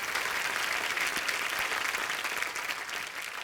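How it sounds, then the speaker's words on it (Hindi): Steady, dense applause from a sizable studio audience on The Kapil Sharma Show, clapping continuously at a moderate level without pause. "जोरदार तालियां सबके लिए"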